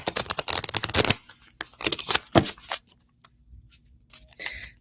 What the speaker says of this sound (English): I'm going to shuffle them like my old school shuffle.